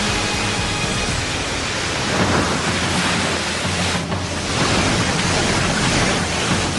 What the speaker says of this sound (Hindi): चियांगटांग नदी का टाइडल बोर 40 किलोमीटर प्रति घंटे की रफ्तार से आगे बढ़ता है